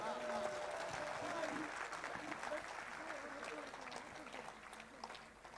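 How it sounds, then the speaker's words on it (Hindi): A crowd at a Hindi comedy poetry show claps steadily for several seconds, with voices and other noise mixed into the applause. "तो एक बार दोनों हाथ उठा करके तालियां बजाइए।"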